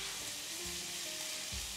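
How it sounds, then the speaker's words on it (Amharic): Garlic fries in hot oil in a pan with a steady, faint, dense sizzle and a couple of soft low bumps. "ከዛ ጋል ስትልን ትንሽ እንደዚህ ነጭ ሽንኩርታችንን ጨምረን ጠበስ እናረጋዋለን"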